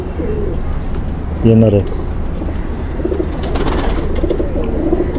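A male Sialkoti pigeon gives a short, throaty coo partway through, while someone talks nearby over constant low background noise.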